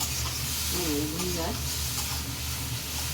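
Bottle gourd is added to spices frying in an iron wok, bringing a loud, steady sizzle with stirring scrapes close by, while a voice talks briefly in the middle.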